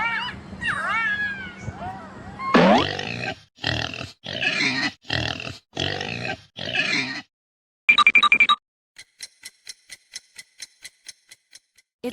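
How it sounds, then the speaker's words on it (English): A pig grunts in a quick run of short, close, rhythmic bursts, followed by a steady sequence of light ticking beats. "It's a pig."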